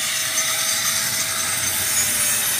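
An angle grinder fitted with a flap disc works over painted steel to strip lifted paint. The high, abrasive whine and grinding hiss run steadily and close, with no voices.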